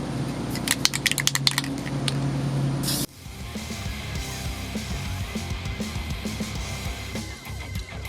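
Spray paint hissing onto an intake manifold as a coat is applied: close, continuous spraying with a few rattling clicks for about three seconds, then a cut to quieter, low rumbling room noise.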